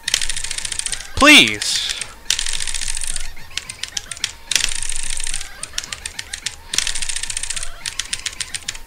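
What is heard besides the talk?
keyboard keys pressed rapidly playing the rhythm game Etterna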